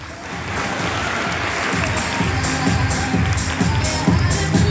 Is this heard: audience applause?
yes